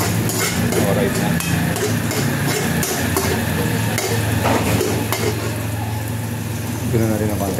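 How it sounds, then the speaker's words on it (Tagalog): Garlic and onion sizzle steadily in a hot pan while being stirred, with scraping and clinking of a utensil against the pan, loud and close, under intermittent speech. "Hinahalo ko yung bawang sibuyas."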